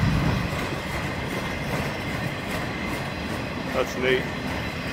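A freight train loaded with wind turbine blades rolls past with a steady, broad rumble and faint clicking from the rail cars, and a person speaks briefly over it.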